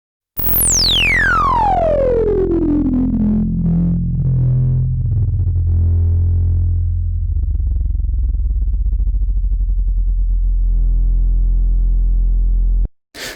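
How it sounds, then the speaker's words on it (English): Behringer Neutron analog synthesizer filter sweep: a loud, sustained bass tone whose resonant peak dives from a bright squeal down into a low growl, picking up gritty, wobbling distortion before cutting off abruptly near the end. "But first, the Neutron. Here's what the filter sweep sounds like."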